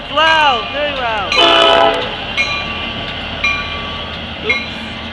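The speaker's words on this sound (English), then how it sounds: "Blow the horn! Whoa, that's loud, very loud." A Norfolk Southern freight train horn blares at a grade crossing in Marion, Ohio, with loud pitch-bending blasts followed by rumbling rail noise and shorter toots, while a person exclaims nearby.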